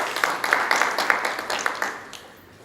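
A conference audience claps politely for an absent honoree, a modest scattering of distinct hand claps in a loose rhythm that starts fairly clear and fades out within a couple of seconds.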